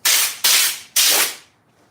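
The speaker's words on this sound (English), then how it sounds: "I like to spray my whole motor down too" Cleaning spray is squirted onto a sandy paramotor in three sharp, loud hissing bursts, the third held longest before fading out.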